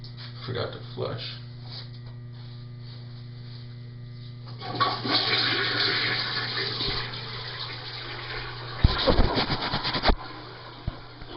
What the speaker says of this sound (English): Forgot to flush.